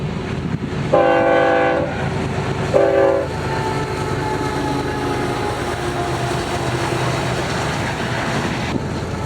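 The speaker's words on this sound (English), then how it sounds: "Two frontrunners later, and we would be greeted by IOA&P being led by a Gevo, and the crew also gave a horn show." A freight train led by a GE Evolution-series locomotive sounds two loud, harmonic horn blasts up close, then rumbles steadily past with continuous wheel and rail noise in summer Utah railfanning.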